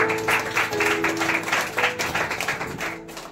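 A crowd claps together in a steady burst of applause that continues for a few seconds, fairly close.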